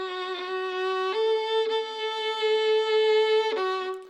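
Close-up violin notes are played with too little bow, a thin, sustained tone shifting between a few pitches with small scratchy attacks at each change, alone and fairly quiet.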